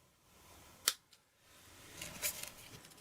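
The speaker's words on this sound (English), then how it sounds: "I'm just going to snip the wreath in half and snip that in half again" Scissors snipping through a paper wreath close by: one crisp cut, then a softer rustling cut a moment later, quiet and alone.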